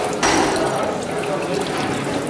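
Water gushes back through a tube in a Leonardo da Vinci inventions exhibit, a close, loud splashing rush that starts abruptly and keeps flowing steadily, with faint talk nearby.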